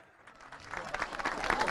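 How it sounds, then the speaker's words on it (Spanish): Applause for preschool teachers at a public event in Bolivia builds quickly from near silence into a dense, spreading clatter of many hands, fairly distant and rising to the end. "Nuevamente un aplauso para todas."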